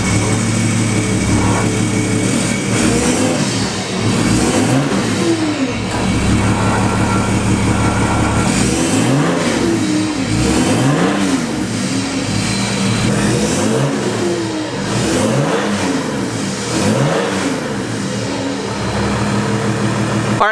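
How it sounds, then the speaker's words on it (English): Straight-piped turbo diesel Mercedes engine revving repeatedly with no muffler, loud rising and falling blips over a steady idle rumble, close by and continuous. "let's see what this weird exhaust setup sounds like"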